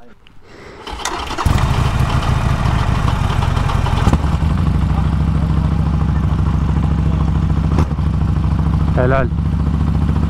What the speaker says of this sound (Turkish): O ne pancar motoru gibi gar gar gar gar gar.